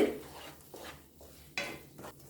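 A spoon scrapes and stirs through white sugar melting in a pan, a few separate soft scraping strokes with short pauses between, faint sizzle underneath and no voices.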